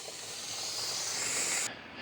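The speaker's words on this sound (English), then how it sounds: "there's where the steam's coming out right here" Steam hisses steadily from a Shark steam mop, a constant airy rush that stays even and then cuts off abruptly near the end.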